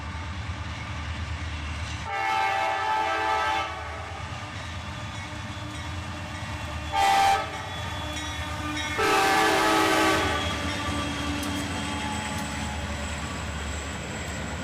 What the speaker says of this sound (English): we'd have this awesome catch with CSX 911, the spirit of our first responders locomotive, in the lead